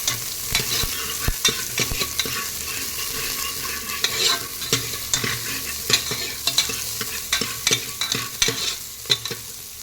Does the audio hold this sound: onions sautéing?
yes